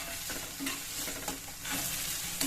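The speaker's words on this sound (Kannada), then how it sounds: "ಈರುಳ್ಳಿ ಸ್ವಲ್ಪ ಮೆತ್ತಗಾಗೋ ತನಕ ಫ್ರೈ ಮಾಡ್ಕೊಬೇಕು" Onion fries in a pan with curry leaves and cumin, a continuous sizzle broken by repeated scraping stirs of a spatula, close and fairly loud, with no talking.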